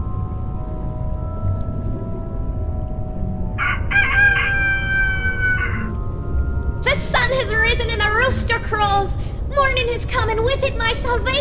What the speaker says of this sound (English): take that animal wheel that I set to rooster and fly outside by the window and play that sound